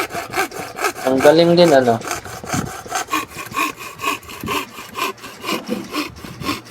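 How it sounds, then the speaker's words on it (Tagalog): Carabao horn is hand-sawn to make a comb, with steady back-and-forth rasping strokes repeating rhythmically at close range; a voice speaks briefly partway through. "Tatabasin na niya, lalagariin na niya. Yan, nilagari na."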